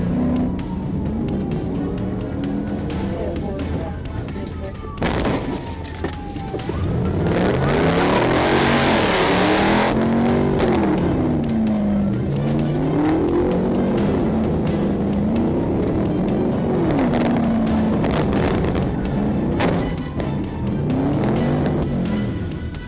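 Stolen car driven recklessly through a parking lot during a police chase, engine revving and surging up and down in repeated waves with tire squeals, loud and close, heard from a pursuing police car.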